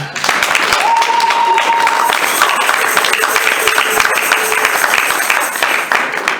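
A church congregation at a French-language service bursts into sustained, dense applause that stays loud and even, with some voices and cheers mixed into the clapping.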